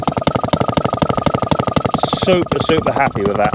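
A restored 1954 Atco Midget lawnmower with a Villiers Mark III two-stroke engine runs close by with a steady, rapid popping chug, while someone talks over it.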